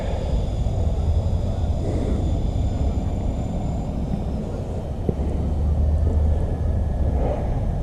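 Four electric motors of a radio-controlled C-130 model airplane drone steadily at half throttle in flight, a continuous rumbling hum with faint high whine lines, moderately loud and unbroken throughout.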